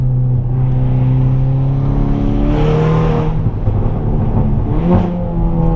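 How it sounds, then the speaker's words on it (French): A turbocharged car revs hard under acceleration, a loud close engine drone with rising harmonics, and a brief airy hiss of the dump valve venting around the midpoint before the engine pulls on. "Vous entendez le petit dump valve?"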